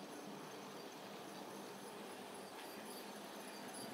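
A model A4 locomotive, Golden Plover, runs along a model railway track with a soft continuous rolling hiss and faint rail clatter, quiet and fairly distant.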